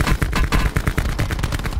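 Rapid automatic gunfire in a Call of Duty match, a dense burst of close, loud shots in quick rhythm across the whole span, with no talking over it.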